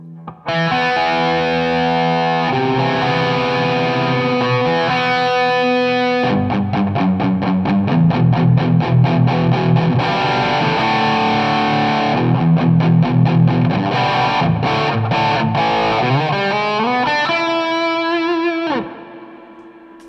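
An electric guitar through a Tube Screamer overdrive on a Line 6 Variax, DT25 head and POD HD500 rig plays with thick distortion, sustained chords and quick chugging strums, loud and up front, ending with a held chord cut off.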